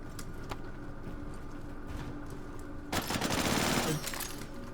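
Automatic weapon fire in the Star Citizen Star Marine mode, a few sharp scattered shots followed by a loud rapid burst of sustained fire for over a second, then quieter background noise.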